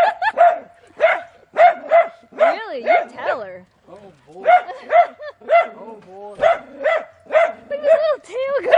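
A little dog barks and yips repeatedly in quick bursts, close and loud, with other dogs whining as a person talks in between.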